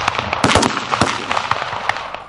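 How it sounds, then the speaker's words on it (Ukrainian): Gunshots from a soldier firing during a crimson beret qualification competition: a rapid series of sharp, loud cracks in quick succession, fairly close, with no talking. "Це стріляє прапорщик Олексій Зубач."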